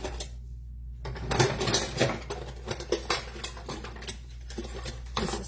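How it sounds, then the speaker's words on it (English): Partly thawed berries are mashed in a pot with a hamburger masher, making irregular wet squishing thuds and clinks of metal against the pot, close and fairly quiet. "I use my hamburger masher to mash down my berries."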